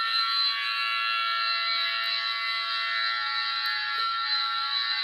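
Emergency Alert System attention tones blare as a loud, steady two-tone electronic signal that holds without a break for the whole span, with no voices.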